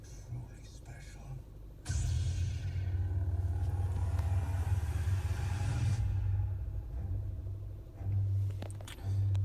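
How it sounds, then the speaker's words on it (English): Star Wars official movie trailer audio playing loudly through a Phoenix 9-inch Android head unit in a 10th gen Honda Civic, a swelling low orchestral rumble and booming effects filling the cabin, with hushed voices in the trailer. "play the Star Wars official movie trailer"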